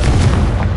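A Confringo fire spell from Hogwarts Legacy detonates in one loud, booming blast with a heavy low rumble sustained through the brief moment, with no voices.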